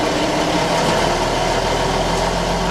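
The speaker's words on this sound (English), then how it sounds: "I'm driving a fire truck." A fire truck engine runs at a steady idle, a continuous low rumble with mechanical vibration, close and loud with no talking.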